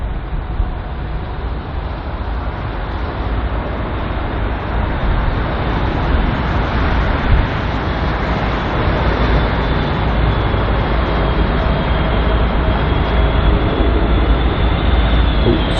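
A British Airways Airbus A321neo passes at London Heathrow, a steady broadband jet roar holding loud and constant throughout as it draws closer, with a faint rising whine layered on top.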